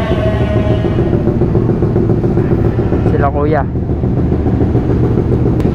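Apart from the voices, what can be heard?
Suzuki Raider 150 fi motorcycle engine warming up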